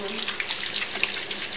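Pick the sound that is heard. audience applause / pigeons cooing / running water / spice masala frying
running water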